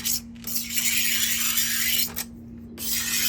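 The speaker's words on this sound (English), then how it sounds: "I want to bevel this anyway, just so it's not a sharp plexiglass edge on here" A scraper bevelling the sharp edge of a plexiglass sheet, heard as loud, close rasping strokes in two long passes separated by short pauses, with no speech.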